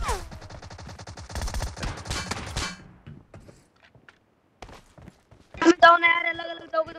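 Rapid bursts of video game gunfire from a powerful weapon crackle loudly for the first few seconds, then fade into quieter scattered shots, with a voice talking briefly near the end.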